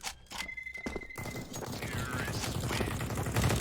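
Counter-Strike gunfire on the Overpass map during a Mountain Dew League match, with rapid bursts and thuds of shots rattling under a caster's lively commentary.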